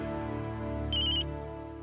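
A phone ringtone chirps in a short, bright burst indoors, rising briefly above a steady background hum.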